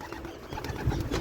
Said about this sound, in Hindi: ये हमारे रेसिंग बर्ड हैं